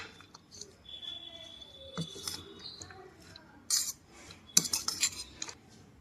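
Omelette ingredients including grated vegetables and chopped coriander being mixed in a bowl, with faint scattered spoon clinks and scraping that grow into a few louder clattering strikes toward the end.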